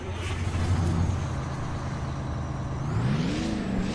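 A Kenworth 521 truck engine idles with a low, steady drone in American Truck Simulator, then revs near the end with a rising whine. It is moderately loud and there is no speech.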